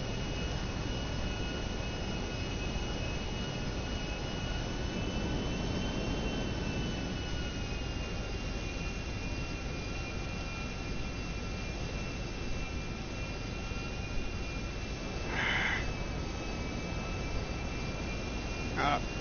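Airplane engine droning steadily during flight in a video game, approaching a landing at Sandy Shores Airstrip; a constant whine with wind-like noise and a brief click near the end, no voices.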